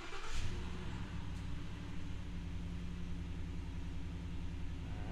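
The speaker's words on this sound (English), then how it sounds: "All right, truck starts up" First-generation Ford Raptor pickup truck engine cranks and fires, then settles into a steady low rumbling idle, close and continuous for several seconds.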